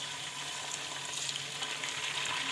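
Chicken goes into a pan of half-fried onions, producing a steady, dense sizzle that holds evenly throughout, with no talking.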